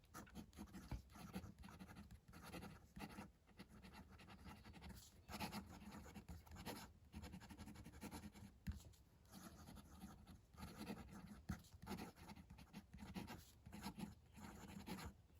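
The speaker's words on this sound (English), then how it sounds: "Let's see the pen write." A Benu Talisman fountain pen with a Schmidt nib scratches across paper in faint, close strokes with short pauses between words, quiet and alone.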